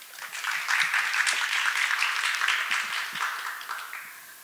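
Audience applause for a presenter at an international martial arts academic seminar, a steady wash of many hands clapping at moderate volume for several seconds, tapering slightly at the end.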